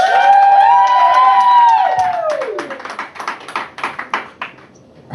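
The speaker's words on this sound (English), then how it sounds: "So give her a round of applause." Audience at a comedy club, The Boneyard in Atlantic City, reacting with scattered clapping and cheers that build after a loud tonal ringing, the claps sharp and uneven, fading toward the end.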